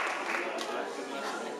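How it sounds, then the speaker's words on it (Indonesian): An audience at a marketing plan event applauds with a dense, steady wash of clapping that fills the brief moment at a low level. "beri tepuk tangan mereka"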